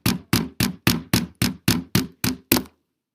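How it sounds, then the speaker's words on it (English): An apple sealed in a small plastic bag takes ten evenly spaced, heavy thumping blows, close and loud, then everything goes quiet. "So now, I'm going to smash the apple."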